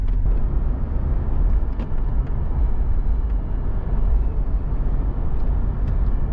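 A 2005 Chevy Trailblazer engine pulling under load while driving, a steady loud low rumble with road noise heard from inside the cabin, despite a faulty shift solenoid.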